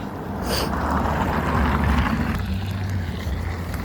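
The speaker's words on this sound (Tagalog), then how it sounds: "Ang ingay ng mga sasakyan eh." Passing vehicles make a steady, fairly loud low rumble of traffic noise that swells and holds without pause.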